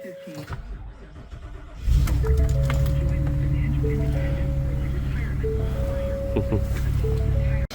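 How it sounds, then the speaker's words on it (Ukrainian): A truck with a roughly six-litre engine cranks and catches at about two seconds, settling into a steady, buzzy, lawnmower-like idle that runs loud and close, with a few high beeping tones sounding above it. "вони так прикольно заводяться, як газони наші"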